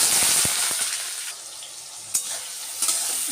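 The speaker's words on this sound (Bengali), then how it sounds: "আর একটু কালো জিরা শুকনো লঙ্কা ফোড়ন দিই" Nigella seeds and dried chillies hit hot oil for tempering, a loud, close crackling sizzle that bursts at once and then eases off, with a couple of sharp spatula knocks.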